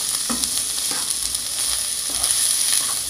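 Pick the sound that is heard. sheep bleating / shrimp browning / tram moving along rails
shrimp browning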